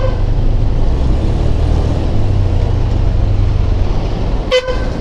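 A truck horn blasts once, briefly and loudly, near the end, over a constant heavy roar of road traffic heard while riding in Cimahi.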